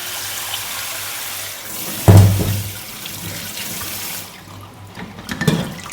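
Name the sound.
washing tea dishes at a running sink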